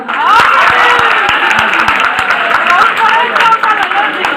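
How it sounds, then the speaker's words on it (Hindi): Audience applause and clapping fill a Hindi spiritual gathering, steady and fairly loud throughout, with voices chattering underneath. "इनके लिए भी ताली हो जाए।"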